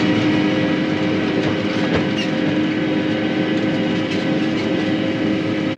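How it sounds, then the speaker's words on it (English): A hay rake working corn fodder into a windrow, with tractor and machinery noise forming a loud, steady rumbling drone and faint rhythmic clatter throughout. "Just take a swath down through and rake it up in a windrow so you can bale it."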